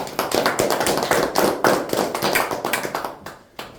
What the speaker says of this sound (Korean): 박수로 모시겠습니다